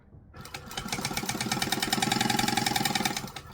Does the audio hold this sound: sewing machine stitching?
yes